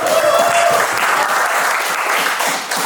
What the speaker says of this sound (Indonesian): Tepuk tangan Mas Arif.